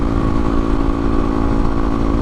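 A Honda CRF250L dual sport motorcycle cruising along a backroad holds a steady, close engine drone with a gritty low rumble, staying even in pitch and loudness the whole time with no voices over it.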